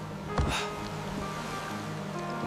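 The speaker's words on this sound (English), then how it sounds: "The icy seawater constantly splashes over the low sides of the ship, even in light waves" Icy seawater sloshes and splashes over the low sides of a Viking ship in light waves, a steady close wash of water with one brief louder splash near the start.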